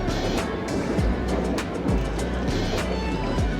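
Chutney pulao mixture boils in a pot, throwing up close, irregular bubbling pops and splutters over a constant low simmering wash.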